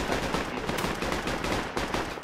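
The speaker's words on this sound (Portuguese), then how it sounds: "A gente tá tomando muito tiro aqui" Rapid gunfire in the tactical military shooter game Project Reality, a dense continuous barrage of bursts and shots filling the whole stretch at steady, loud level.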